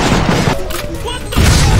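Grenade blast in the shooter game F.E.A.R. during an online capture-the-flag match, a loud booming burst with a rumbling tail and a second heavy thud near the end.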